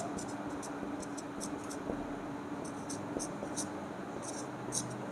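Pen writing on paper during a class 12 maths lesson: soft, scratchy strokes in short repeated bursts, faint against low background room noise.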